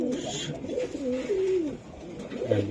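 Pigeons coo in low, rolling phrases close by, a few soft calls in succession with little else around.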